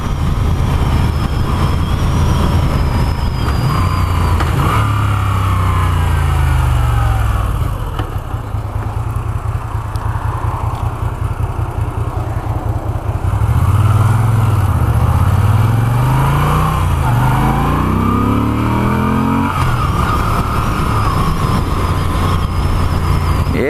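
A Moto Guzzi V7 III Special motorcycle being ridden, its engine droning steadily and loudly throughout, with the pitch rising and falling through gear changes and a brief softer dip midway.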